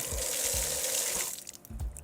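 Water gushes steadily from a repaired outdoor spigot with a loud, close hiss that cuts off partway through, leaving a few thuds and faint splashes.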